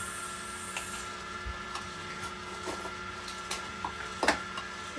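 An electric mixer whips a sugar-free mixture for a homemade birthday cake, giving a steady motor whir with faint tonal hum, scattered clicks and knocks, and a sharper clatter near the end.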